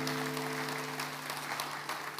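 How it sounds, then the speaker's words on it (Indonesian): A church congregation applauds during a sermon, a steady even wash of many hands clapping throughout, moderately loud, with a low electronic hum underneath. "Puji Tuhan, kita kasih tepuk tangan dulu."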